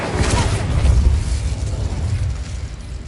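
A fiery Incendio spell blast cast in the Hogwarts video game, heard as a loud rumbling burst that swells within the first second and then fades into a crackling, roaring tail.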